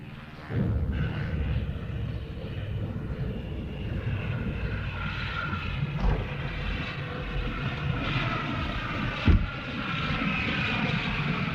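An American Airlines airliner approaches to land over the shoreline in a 1951 film scene, a loud steady engine roar that swells gradually, near and continuous, with no talk.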